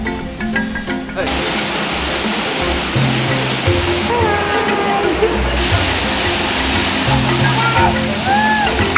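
Steady roaring rush of a waterfall in South African wilderness fills the whole clip, loud and close, with a few faint bird calls threaded through the noise.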